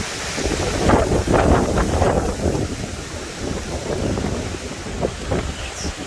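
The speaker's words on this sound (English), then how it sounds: "It's super windy out here." Strong Hurricane Ian wind buffets and roars against the microphone in loud gusts, with a rushing, wave-like background.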